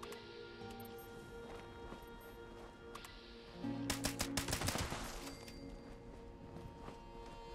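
Fully automatic rifle fire in Fallout 76, played with a rifleman build, comes as a loud burst of rapid, closely spaced shots lasting about a second and a half midway through, over a low ambient game background.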